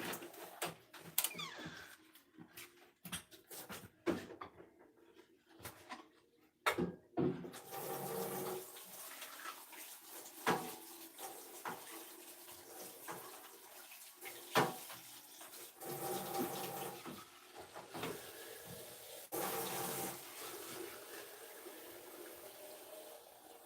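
Tap water runs to fill drinking water for farm animals, starting with scattered clatter and splashes, then settling into a steady, fairly faint flowing rush with occasional surges.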